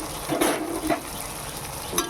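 Hilsa fish heads with boiled taro stalks turned in a pan, a brief low sizzle broken by a few soft stirring scrapes close by.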